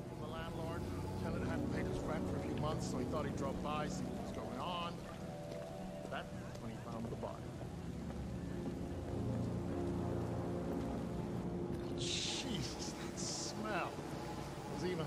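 Steady rain falls in the Detroit: Become Human video game, a constant wash under game music and voices, while a player talks over it throughout.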